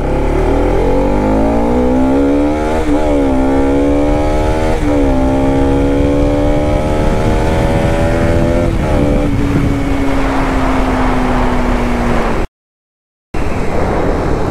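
A Bajaj Pulsar RS200 motorcycle engine revs up through several gear shifts, pitch climbing and dropping repeatedly as it accelerates hard toward 100 km/h, loud and close with heavy wind rush through an open visor.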